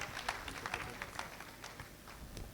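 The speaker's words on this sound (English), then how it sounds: "A round of applause for him." Audience clapping at a Nigerian Institute of Building gathering in Lagos, a scattered, fairly faint patter of hands continuing for a couple of seconds in an indoor hall.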